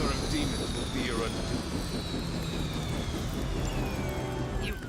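A helicopter in the video game Marvel's Midnight Suns, a continuous low engine and rotor rumble with faint high whines sweeping downward, steady and droning under other game sounds.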